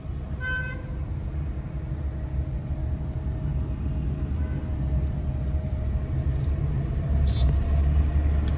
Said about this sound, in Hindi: अब इंजन थर्ड गियर मांग रहा है